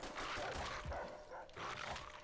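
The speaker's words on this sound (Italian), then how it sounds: "qui i cani ti uccidono con due morsi" Attacking dogs in the video game Call of Duty: World at War bark and snarl in short, fairly faint bursts over steady game background noise.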